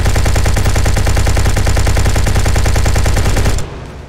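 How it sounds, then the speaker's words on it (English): Rapid automatic gunfire from the video game Inglorious Waifu Vs Nazi Zombies, a steady, loud stream of evenly spaced shots for over three seconds, then an abrupt stop into quiet. "I probably have to shoot them out of the sky"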